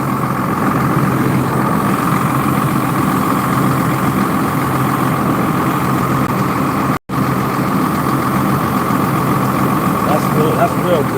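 One of two engines idles, giving a loud, continuous, close-up rumble with a steady hum that holds even throughout, cut only by a split-second dropout midway.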